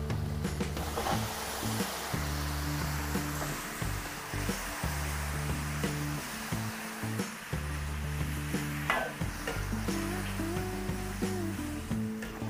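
Marinated chicken sizzles and crackles steadily in a hot pan, with periodic scraping and clatter as it is stirred.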